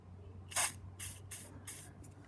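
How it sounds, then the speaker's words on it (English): Short hissing bursts of WD-40 aerosol sprayed onto a badly rusted vintage Peugeot bicycle part, one longer spurt followed by three quicker pulses, close and fairly quiet. "So I'm going to have to put WD-40 on it and let it soak."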